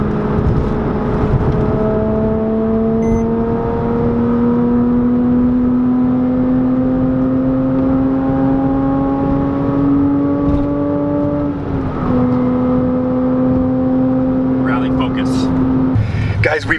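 An exotic car pulls along a frontage road during a rally, its engine holding a steady whirring drone that climbs in pitch as it accelerates, with a brief shift near the end and voices talking over it.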